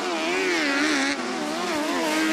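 An autograss race car roars past at close range, its engine note loud and sustained with a rising and falling pitch as it passes.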